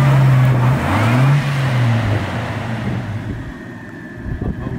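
A car driving off-road after leaving a volcano, with a loud low engine drone that rises and shifts pitch in the first seconds and then eases, buffeted by wind noise, and no voices.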